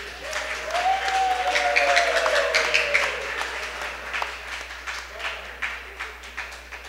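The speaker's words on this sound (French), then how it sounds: "Bon, gros applaudissement pour Atisaou." Audience clapping after a poetry reading, steady applause from a small crowd that tapers off, with a voice speaking over the start.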